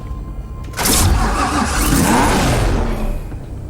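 Ford GT supercar from the 2005–2006 production run, driven in the racing game Need for Speed Hot Pursuit, its engine surging into a loud, sustained rev that holds steady before easing off near the end.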